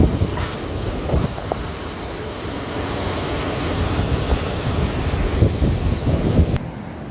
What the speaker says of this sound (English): Massive waves hit Southern California, turning a familiar fun spot into a danger zone in seconds.